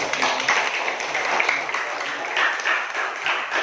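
Classroom of eighth-grade students at a junior high school clapping together, a dense, steady patter of many hands held at even loudness for a few seconds, close and filling the room.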